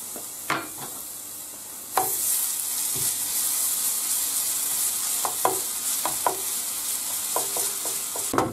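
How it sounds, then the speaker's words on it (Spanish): Garlic sizzling in hot oil in a frying pan, steady loud hiss throughout with occasional stirring clicks and scrapes, close up, no talking. "Una vez que está caliente, lo que hacemos es echar el ajo para que se rehogue un poquito."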